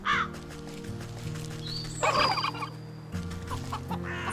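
Several turkeys gobble in bursts over a steady droning game soundtrack, with a louder, busier cluster of calls near the middle.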